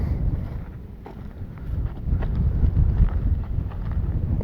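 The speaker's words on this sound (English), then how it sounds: "The wind is blowing really good." Wind gusts across an open cemetery in New Mexico, buffeting the microphone with a low, rumbling roar that swells and eases, loud and continuous with no talk.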